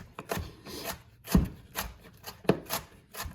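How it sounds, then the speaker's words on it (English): A knife finely dices a whole onion on a board, giving a handful of irregular, close chopping strikes with soft scraping between them, with no voices. "I'm dicing 1 whole onion, fine"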